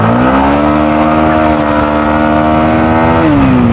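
A motorcycle riding on a highway and overtaking, its engine droning loud and close with a steady pitch that shifts near the end as it changes speed.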